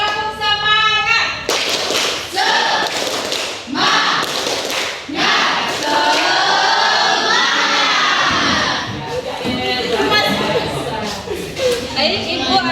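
A classroom group of children performs the rhythmic tepuk semangat spirit clap, loud and close, with chanting and shouting mixed into the claps throughout.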